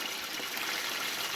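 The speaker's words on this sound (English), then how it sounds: "Okay, water back on." Tap water running steadily from a household faucet after the supply is turned back on during Ideal boiler work, a continuous close trickling hiss with no talk.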